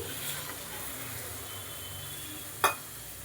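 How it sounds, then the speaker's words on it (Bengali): Chicken stock goes into a hot pan of bottle gourd and chicken for soup, raising a steady, even sizzle and hiss that carries throughout, broken by one sharp click near the end; no voices. "এবার আমি চিকেন যে সেদ্ধ করে নিয়েছিলাম, সেই চিকেন স্টকটা আমি"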